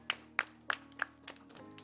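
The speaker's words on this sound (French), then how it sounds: "Applaudissons encore." Scattered hand claps from a church congregation, a handful of sharp separate slaps at an uneven pace, fairly quiet and distant-sounding over a low steady hum.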